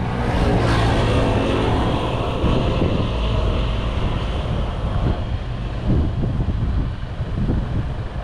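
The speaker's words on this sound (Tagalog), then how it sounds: "Ang lakas pa ng hangin." Strong wind buffeting the microphone in a steady, loud roar with gusty low rumbles throughout; no voices.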